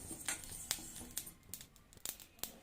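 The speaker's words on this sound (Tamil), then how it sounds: "இப்போ பாருங்க சத்தம் வருதா படபடன்னு பொரியும் அது" Dry spices crackle and pop in a hot pan, a quiet scatter of sharp little snaps at an irregular pace with a soft background hiss.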